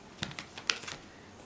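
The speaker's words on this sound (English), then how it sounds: "Just give me a minute so that I can shuffle." A Light Seers tarot card deck is shuffled, giving faint, quick papery flicks and taps in an irregular patter.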